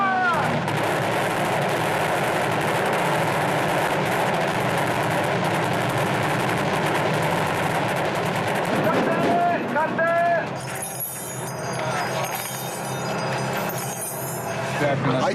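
Gunfire and explosive blasts from a staged military battle scene with soldiers, stunt performers and tumbling vehicles, a dense, loud, continuous barrage of shots and rumbling, with voices shouting underneath and sharper crackling bursts near the end.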